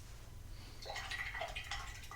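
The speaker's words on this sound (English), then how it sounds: "So I'm just putting plain water in just to see if that can create some cool effect." Plain water dripped and poured onto a painting gives soft, close splashing and dribbling sounds against a low background hum, with no talking.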